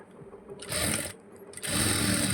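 A sewing machine runs in two steady bursts with a short pause between them as it stitches the side joints of a blouse, a close, whirring mechanical hum.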